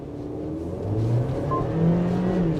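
A 2025 Haval Jolion 1.5 turbo SUV accelerating hard from 0 to 100 km/h with launch control, heard from inside as a steady, rising engine drone and whir that swells in loudness with a gear change midway.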